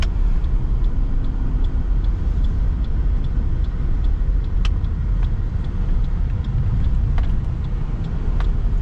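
A Ford Fairlane drives along suburban streets near a service station, its engine and road noise a loud, steady low rumble from inside the cabin, with faint ticks and clicks over the top.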